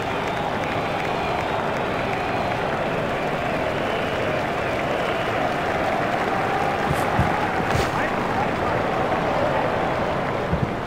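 A large cricket stadium crowd at a 2019 World Cup match between South Africa and India in England applauds a shot, a dense sustained roar of clapping and cheering that stays steady throughout.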